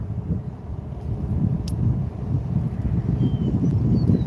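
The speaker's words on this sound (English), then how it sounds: "30-mile-an-hour gust." Strong wind gusting during a severe storm in Oklahoma, buffeting a microphone in a steady low rumble for a few seconds, with no voices present.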